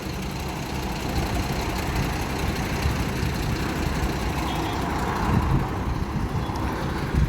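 A trailer lorry rolls into a large highway hotel parking area, its heavy diesel engine giving a constant low rumble with a slight rise near the end and no voices.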